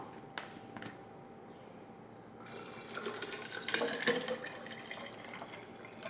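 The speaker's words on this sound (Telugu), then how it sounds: "ఇప్పుడు మనం వాటర్ వేసుకుందాం" Water poured into a lemon drink mixed with sabja seeds, salt and sugar: a steady, close splashing stream that starts after a quiet moment and runs on to the end, with no voices.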